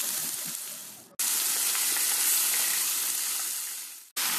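Malabar spinach sizzling and frying in a hot pan, a steady loud crackling hiss broken by two brief gaps, with no talking.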